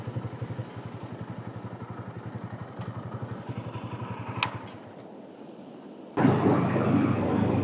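A motorcycle rides along the Uppada beach road between Tuni and Kakinada in Andhra Pradesh, its engine throbbing steadily, then fading before a sudden burst of strong wind rush takes over.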